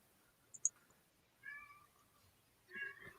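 A female pet cat meows twice, once around the middle and again near the end, each call moderately loud over an otherwise quiet indoor background with a faint click early on.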